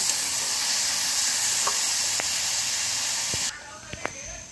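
Spices and potatoes for aloo dum fry in a pan with a loud, continuous sizzle and a few scraping stirs. The hiss drops sharply near the end, leaving quieter frying and clinks.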